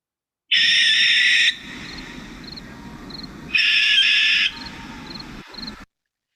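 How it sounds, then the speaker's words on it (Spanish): A barn owl call recording plays two long, harsh rasping territorial screeches separated by a pause, with faint soft clicking notes in between, loud and close against low background hiss. "Mira, Mati, ponle play al audio, por favor, para que escuchemos la voz de la lechuza."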